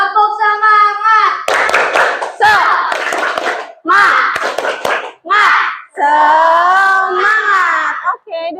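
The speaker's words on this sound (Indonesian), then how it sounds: "1 kali lagi yang lebih keras. Tepuk semangat." A school class does a rhythmic spirit clap, bursts of loud, close clapping from many children alternating with chanted and shouted voices in a call-and-response pattern.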